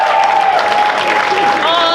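Crowd at a comedy club cheering and clapping before a roast battle, continuous loud applause with whoops and a voice calling out over it.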